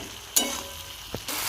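Ground spice paste frying in a pan with a steady soft sizzle, broken by a few scraping stirs of a spatula against the pan, close and moderately quiet with no talking.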